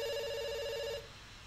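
Telephone ringing in the video game Dr Langeskov: a loud, steady electronic ring with sustained tones that cuts off after about a second, leaving faint background noise.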